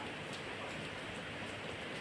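Rain falling outdoors in Khlong Sam Wa, Bangkok, a faint, even hiss of drops on surfaces with no voices.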